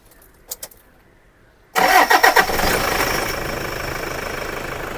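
Toyota Fortuner, 2011 four-wheel-drive, cranks and fires up after a quiet pause, a short starter whir followed by a loud, steady diesel-like idle close by.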